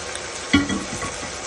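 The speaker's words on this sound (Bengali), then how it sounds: "তারপর একটু হালকাভাবে নেড়ে চেড়ে নিচ্ছি" Mustard hilsa fish with spices stirred gently in a frying pan, a single brief scrape and clatter over a steady soft sizzle of frying oil.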